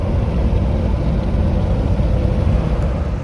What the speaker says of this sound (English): I got that engine in there and running super nice. Little 5-liter high output.